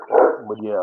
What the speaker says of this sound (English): yeah, that's my big hunting dog